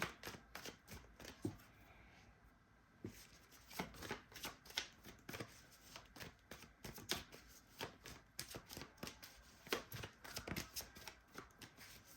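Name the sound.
oracle cards being shuffled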